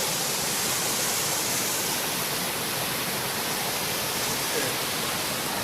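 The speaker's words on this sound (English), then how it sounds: "We just found a really cool waterfall." Rushing creek water and a waterfall along a mountain hiking trail, a steady broad wash of flowing water that fills the whole scene without pause, fairly loud and close.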